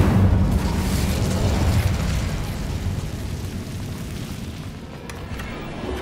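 An Incendio fire spell is cast in the Hogwarts Legacy video game, a loud whooshing fiery burst with a deep rumble that gradually tails off, no speech.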